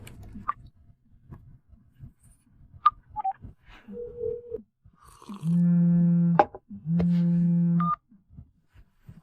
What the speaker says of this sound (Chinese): 小郑，你可总算舍得打电话了